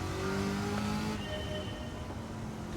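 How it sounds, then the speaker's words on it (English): A race car engine in a video game revs steadily, its pitch shifting midway as if through a gear change, loud and continuous with no voices. "Definitely sounds like a race car though."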